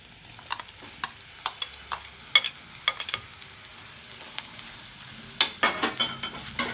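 Drumstick (muringakka) pulp thoran fried and stirred in a pan gives a steady close sizzle. Sharp spatula scrapes and clinks cut through it at irregular intervals, with a tight burst of them near the end.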